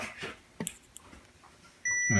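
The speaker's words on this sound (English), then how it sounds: "I get my beep" A short, clear electronic beep from a circuit tester near the end, steady and high-pitched, following a few faint clicks and taps.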